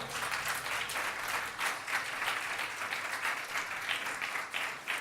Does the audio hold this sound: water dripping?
no